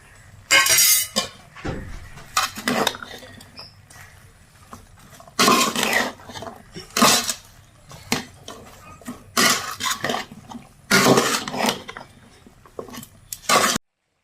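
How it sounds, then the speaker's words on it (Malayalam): Spoon scraping and clinking in a pan while chili and coriander powder masala is stirred, coming in repeated bursts of close, bright scraping with short pauses between, no talking. "ഇനി നമുക്കിത് എല്ലാം കൂടെ ഒന്ന് മിക്സ് ആക്കാം ഒന്ന് ഇളക്കി കൊടുക്കാം കേട്ടോ"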